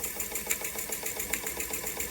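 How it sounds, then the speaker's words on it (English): Jensen Model 25 steam engine running clockwise, a close, steady rapid mechanical chugging with even rhythmic beats and a faint metallic clatter, no voices. "I find that the engine seems to be a little bit more belabored when it's running clockwise versus counterclockwise."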